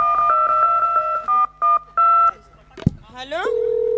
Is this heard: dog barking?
no